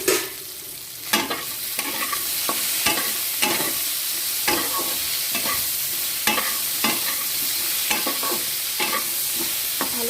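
Vegetables for shukto fry in a pan with salt and turmeric, sizzling loudly and continuously while a utensil scrapes and stirs them in repeated sharp strokes, with no voices.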